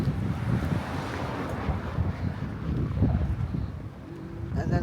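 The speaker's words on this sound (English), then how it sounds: "there is a bit of a wind coming up, so it might affect the sound quality" Steady wind buffets the microphone on a beach at Mersing, Malaysia, a continuous low roar mixed with the wash of surf, loud and unbroken throughout with a slight swell toward the end.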